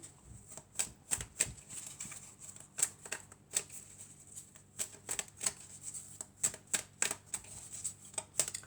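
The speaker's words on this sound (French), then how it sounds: "on va prendre quelques cartes du toi et moi" Tarot-style cards drawn and laid out one after another for a love reading, a run of quick, crisp snaps and flicks, close and faint against a quiet room, with no talking.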